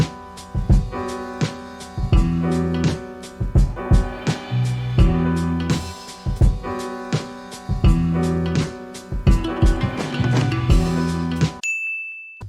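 Beat programmed in FL Studio layering melodic samples with punchy drums and ticking hi-hats, bell-like chime tones ringing over a steady groove, ending in a drum fill and a short bright tone; loud and full, no voices.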